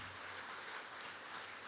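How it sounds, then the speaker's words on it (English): An audience applauds for Balram at a corporate audit and consultancy event, a steady wash of clapping that stays moderately loud and even for the whole stretch, with no voices over it. "Can I have a round of applause for Balram?"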